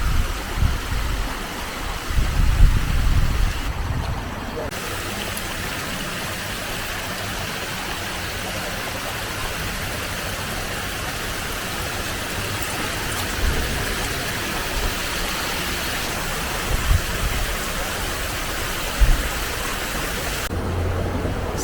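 A small waterfall in manicured gardens in Ventnor, Isle of Wight, gives a steady broadband rush of falling water, continuous and fairly close, with a few faint knocks and wind bumps.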